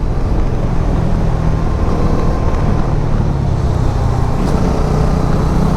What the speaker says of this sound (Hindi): आप चेक कर सकते हैं कैसा इंजन का साउंड रहेगा